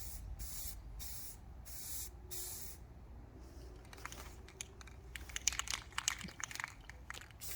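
Several short bursts of an aerosol spray-paint can hiss in a row while spraying tabletops, followed by light rustling and clicking handling noises, all fairly quiet.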